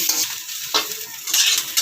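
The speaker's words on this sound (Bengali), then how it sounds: "এবার এটা দিয়ে আরও 1 মিনিট নাড়াচাড়া করব।" Onion and capsicum for soya chow are stir-fried in a pan, with brief spatula scrapes and a soft sizzle in a short, faint burst.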